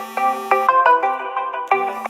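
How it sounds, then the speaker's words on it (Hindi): A mobile phone ringtone plays a bright melodic sequence of distinct electronic notes, rhythmic and close, with no talk. "और बीच बीच में फ़ोन डिस्टर्ब कर देता है।"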